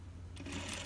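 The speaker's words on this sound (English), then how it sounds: "Okay, I'm gonna sew forward" A sewing machine starts up partway through and runs steadily forward while stitching an invisible zipper, a close, continuous mechanical whir with no talking.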